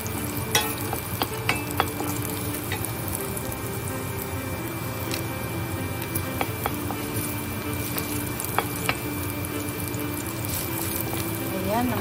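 Green beans brown in a hot pan with a steady frying sizzle, broken by scattered clicks and scrapes of stirring, close and fairly loud with a background hum.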